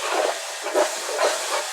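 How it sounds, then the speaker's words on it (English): Water poured into a hot pan of stir-frying pork for a curry or masala sets off a loud, steady steam hiss and sizzle that swells in a few brief surges. "now I'm going to put a little bit of water in this and just pour it back in there."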